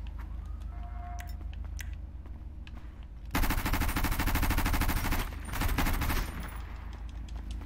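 Automatic gunfire in a video game, opening with a few scattered shots, then a loud, sustained rapid-fire burst, a short pause, and another long burst.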